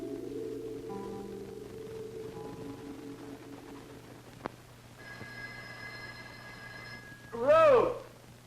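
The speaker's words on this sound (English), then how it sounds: "Ruth! Ruth, don't you hear the phone" A telephone ringing indoors in a house, a few tonal rings that come and go, followed by a brief louder sweep of sound near the end.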